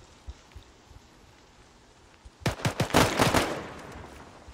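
A sudden burst of rapid gunfire in the military video game ArmA, several close, sharp shots in quick succession following a quiet stretch of faint ambient noise.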